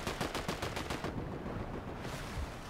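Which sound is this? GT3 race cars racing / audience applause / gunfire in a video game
gunfire in a video game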